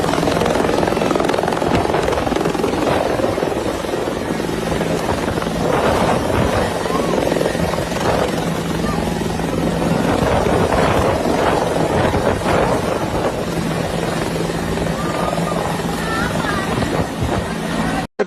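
A helicopter dropping aid supplies thunders loudly and steadily close by, with heavy rotor and engine noise and wind buffeting, while people talk underneath.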